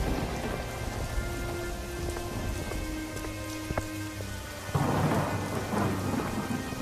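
Heavy rain pours steadily in a storm, with thunder rumbling and a louder burst of downpour or thunder near the end. No one speaks.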